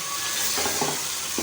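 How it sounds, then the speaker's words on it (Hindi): Onion and tomato stir-frying in oil in a kadai, a steady close sizzle with a few stirring scrapes over a broad hiss. "ऑयल डालने के बाद अब हम कढ़ाई को अच्छी तरह से भून लेंगे।"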